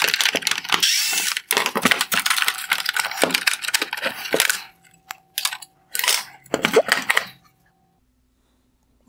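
Small T20 Torx screws are backed out of the LED fan shroud on a 2019-2021 Porsche Cayenne headlight, giving close, dense clicking and scraping in busy bursts, then a few sparse taps before stopping.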